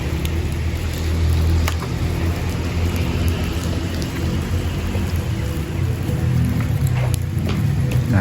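Steady, dense rain pours down in Bali, drumming on surfaces in a constant loud hiss with low rumbling underneath and scattered sharper drips.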